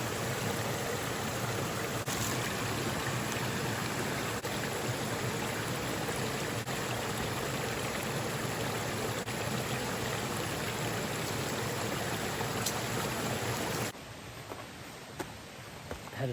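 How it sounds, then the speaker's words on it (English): Flowing water in a canyon creek near Icehouse Canyon, a steady close broadband rush and gurgle running unbroken before dropping abruptly to a quieter trickle near the end. "Got some flowing water through here."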